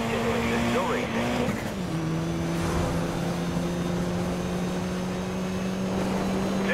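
Cars race in the Need for Speed Most Wanted video game, with a stock Mitsubishi Evo X and a Shelby Cobra 427 among them. Steady engine drone shifts pitch partway through, with radio chatter over it.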